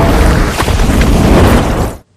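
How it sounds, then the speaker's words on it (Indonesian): An explosion in a tunnel: a loud, sustained explosive roar rumbles for about two seconds, dense and booming, then cuts off abruptly into near silence. "terdengar ledakan kuat dari terowongan itu"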